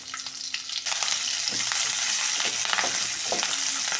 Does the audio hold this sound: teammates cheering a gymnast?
no